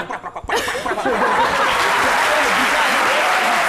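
Audience applause at a French literary talk show, starting after a short burst of chuckling and laughter, then swelling into steady dense clapping that holds to the end.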